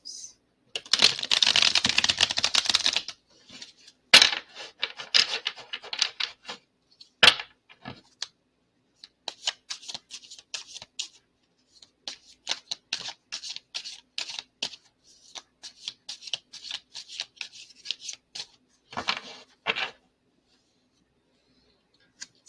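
Tarot cards are shuffled, first in a dense riffling burst, then in scattered rustles and soft flicks, close and quiet, with no voice.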